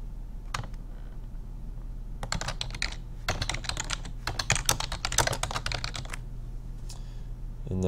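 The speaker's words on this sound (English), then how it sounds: "I can type my meeting name." A computer keyboard clatters with close, rapid bursts of keystrokes in several runs separated by short pauses, with a low steady hum beneath.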